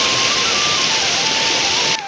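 A small mountain river in Solukhumbu rushes steadily and close by, a dense, continuous wash of flowing water with a thin whistling tone over it, cutting off abruptly near the end.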